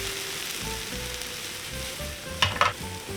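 Garlic, chili and mushrooms frying in a pan, a steady soft sizzle throughout with a couple of brief louder crackles near the end, close and alone with no talk.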